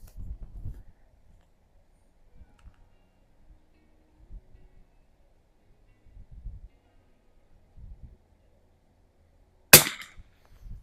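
A single sharp, loud gunshot from a Mossberg 146BA rifle fired with iron sights at a 50-yard target, cracking out near the end after quiet stretches of faint rustling and handling noise.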